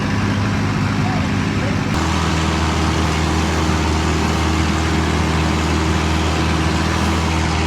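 A loud, steady boat engine drones close by at Railay Beach with a deep hum, continuous throughout and shifting slightly in tone after a couple of seconds.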